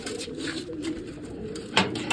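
Pigeons being fed grain coo in low, soft murmurs amid a busy background, with a brief louder flutter or call near the end.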